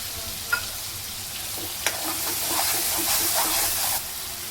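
Steady sizzling of peas frying in spiced oil, close by, with a couple of sharp clinks of a spoon against the pan and a louder burst of hiss.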